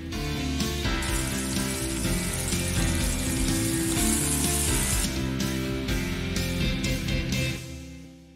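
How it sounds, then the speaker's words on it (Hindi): Two medium chopped onions hit hot oil in a pot and sizzle loudly and steadily, a dense crackling hiss that runs for several seconds before dropping off at the end. "अब हम इसमें 2 दरमियाने साइज़ के कटे हुए प्याज डालेंगे और इसे लाइट गोल्डन फ्राई करेंगे"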